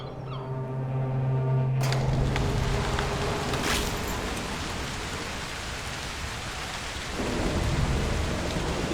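A thunderstorm breaks out in Broken Pieces: after a fading tone, a loud thunderclap rolls in over heavy rain pattering on surfaces, the downpour continuing steadily with another rumble near the end.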